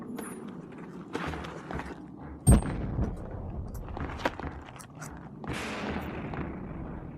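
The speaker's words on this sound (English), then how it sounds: "It's like someone firing cannons at my house" Heavy booming cannon blasts in the video game Overcast - Walden and the Werewolf thud out over a dense rumble of game noise, one sharp impact standing out among repeated distant explosive shots.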